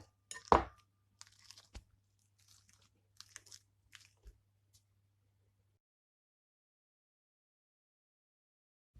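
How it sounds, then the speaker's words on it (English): Ripe bananas mashed in a bowl for banana bread, a few sharp crunchy presses and squelches, then sparse soft taps and scrapes over near silence, close and quiet. "So now we're going to mash our bananas."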